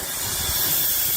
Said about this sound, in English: It's using steam